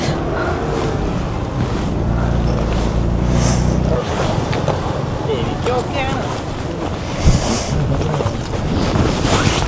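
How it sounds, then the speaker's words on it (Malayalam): Strong wind in the Scottish Highlands near Glencoe buffets the microphone with a loud, continuous roar that swells and dips. A person speaks briefly amid the gusts. "ഇവിടെ നല്ല കാറ്റാണ്."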